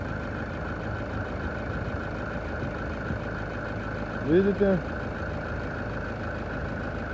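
A Hyundai Terracan engine idles steadily after servicing, warmed up to operating temperature, a continuous low hum running throughout with a brief voice cutting in near the middle.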